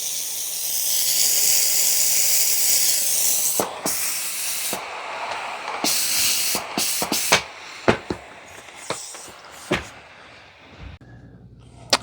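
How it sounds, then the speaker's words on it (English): A black Shark steam cleaner sprays steam, starting with a loud, steady hiss for several seconds that fades into a string of sharp clicks and brief sputtering bursts. "I can tell there's a little bit more steam coming out of the black one."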